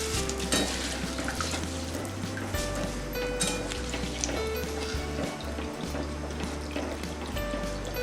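Flattened rice frying in hot oil for a chivda snack, a dense bubbling crackle that holds steady with low clatter of a pan underneath.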